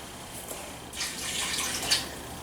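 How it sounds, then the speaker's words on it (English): Water poured from a container into a soup pot holding potatoes, a steady broadband splash and trickle starting about a second in and continuing close by to the end, with no speech. "add some more water here"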